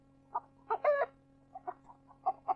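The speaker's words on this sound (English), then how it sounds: "Whereupon the hen laid a golden egg." A hen in an audiobook sound effect clucks as it lays an egg: a few short, close clucks and one longer squawk, then a string of softer, evenly spaced clucks over a steady low hum.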